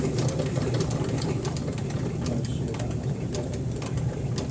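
A Cowboy CB4500 industrial sewing machine fitted with an inline presser foot stitches steadily, a fast continuous mechanical hum with rapid ticking needle strokes, close and constant throughout.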